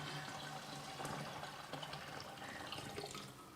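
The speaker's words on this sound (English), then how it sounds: "I'm gonna pour this in." Liquid poured into a vessel while brewing a batch of mead at home, giving a steady close splashing, gurgling flow that eases off at the end.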